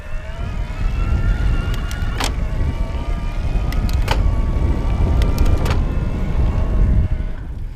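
An electric bike's motor whines at higher RPM, a steady pitched hum with layered tones that holds for several seconds over rushing wind and road noise, with no one talking.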